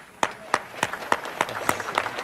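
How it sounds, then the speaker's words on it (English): Scattered audience clapping at a funeral homegoing service, a sparse handful of distinct claps in an uneven rhythm, fairly quiet and close. "They clapping because I done shut up"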